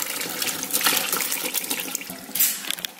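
Hot water from boiled frozen pierogies is strained out, a steady rushing splash with brief louder gushes, close and alone.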